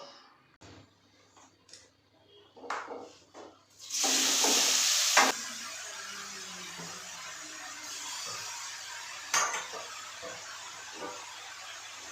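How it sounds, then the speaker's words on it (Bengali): Grated carrot hits hot ghee with a sudden loud sizzle that settles into steady frying, with occasional scraping stirs and clinks. "গাজরটা খুব সুন্দর করে ভেজে নিয়েছি ঘিয়ের মধ্যে"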